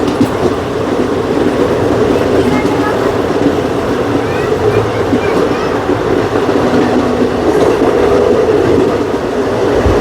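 A passing Sri Ganganagar Tilak Bridge Express, an ordinary passenger train, rumbles past continuously and loudly, heard from aboard another train crossing it on a desert route between Delhi and Jodhpur, with a dense wash of wheel and carriage noise throughout.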